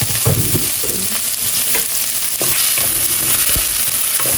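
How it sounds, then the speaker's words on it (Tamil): Onions sautéing in a pan for a Tamil crab curry give a steady, close sizzle, with occasional scrapes and knocks from stirring and no talking. "வெங்காயம் நல்லா வதக்கணும்."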